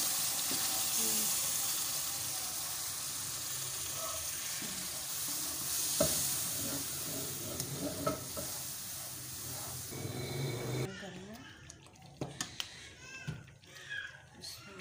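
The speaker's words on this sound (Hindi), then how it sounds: "अब इसके अंदर दूध वाला मिक्सचर ऐड करेंगे आहिस्ता आहिस्ता" Milk mixture is poured slowly into semolina frying in a pan for egg halwa. A steady close sizzle and bubbling fades to a quieter, uneven simmer near the end, with faint voices in the background.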